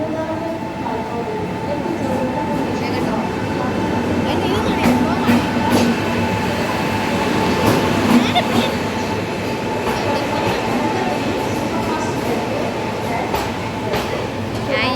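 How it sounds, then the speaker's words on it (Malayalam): The Kanyakumari Express pulling into Trivandrum railway station, a steady rumble of rolling carriages with faint rhythmic wheel clatter and occasional squeals, with people talking over it. "കന്യാകുമാരി എക്സ്പ്രസ് എത്തിക്കൊണ്ടിരിക്കുകയാണ്"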